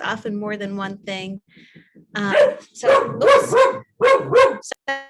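A guard dog barks indoors in a few short yapping bursts, heard mixed in with and between a person's continuous speech close to the microphone.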